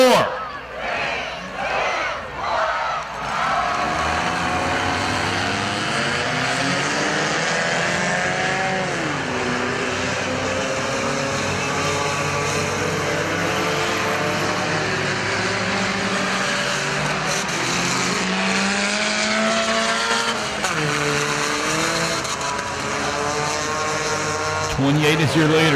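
Four-cylinder race cars at Perris Auto Speedway, an outdoor dirt oval, restart together, with several engines revving and rising in pitch into a loud overlapping roar that carries on steadily over the crowd.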